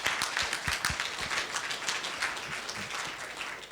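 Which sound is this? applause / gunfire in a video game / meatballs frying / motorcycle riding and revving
applause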